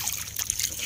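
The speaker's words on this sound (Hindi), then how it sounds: "थोड़ा मैं चेहरा धुल लूँ, मुँह धुल लूँ अपना नदी पानी से" A person washes their face with clear village river water, a brief soft trickling and splashing against a constant watery background hiss, without speech.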